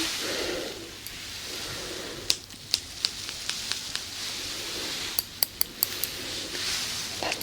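Scissors snip close to the microphone in a soft ASMR setting, a string of crisp metallic clicks and cuts scattered irregularly over a quiet, hissy background, with several rapid snips clustered near the end.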